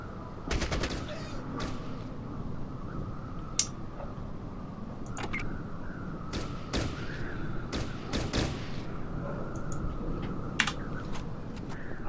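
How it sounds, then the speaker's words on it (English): Hunting rifles fire in Fallout Tactics: a scattered series of sharp, loud shots, some in quick pairs and some spaced apart, ring out over a constant rumbling game background. "Hunting rifles at dawn, my friends."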